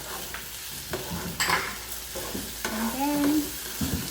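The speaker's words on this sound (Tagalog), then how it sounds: "So while you're sauteing that, we can add the ginger." Ginger sautéed in a pan for a tamarind chicken soup, a soft sizzle with stirring scrapes close by, while a voice speaks briefly over it.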